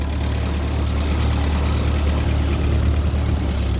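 A 1948 Ford 8N tractor engine idles steadily close by, a continuous low rumble with an even chugging pulse that holds without a break and has no talk over it.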